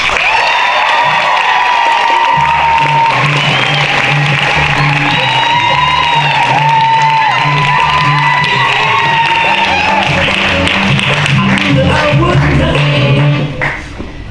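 At a campus awards show, an audience breaks into loud, sustained applause mixed with cheers and whoops, a dense crowd roar running the whole length before easing off at the very end.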